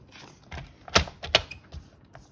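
A paper trimmer blade cutting through a sheet of paper in a craft setting, heard as a few quick, close, crisp strokes, two of them sharper and louder, then quiet.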